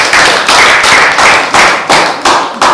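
An audience claps loudly in a steady, unison rhythm, with evenly spaced bursts of hand claps repeating about three times a second and no voices over them.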